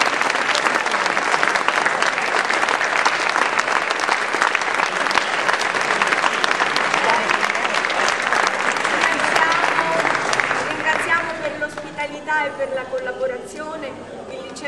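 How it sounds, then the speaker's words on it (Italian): Theatre audience applauding the director after a school drama performance of Elettra, long dense clapping for about ten seconds that then thins out as voices begin speaking. "secondo me merita un applauso"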